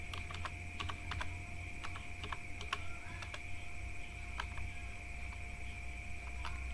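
Computer keys clack in quick irregular bursts as an IP address is entered for network subnetting, close and clear over a steady electrical hum, with no voice.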